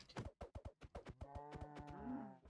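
A cow in the video game Minecraft gives a burst of quick clipped sounds followed by a long, wavering moo, faint and clear with no talking over it.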